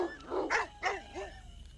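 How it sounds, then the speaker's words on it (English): A pack of dogs in an animated Shakespeare's Tempest scene barks in several quick, overlapping yelps, loud and close, with no voices over them. "They are then attacked by a group of dogs and run away."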